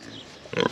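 A boar pig on a farm gives a short, close grunt after a moment of quiet background noise, one brief rough burst near the end.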